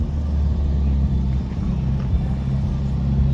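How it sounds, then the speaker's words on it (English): Small Miata race car running on a circuit during a racing event, a steady low engine drone with continuous rumble, fairly close and unbroken throughout. "Yo, this little Miata."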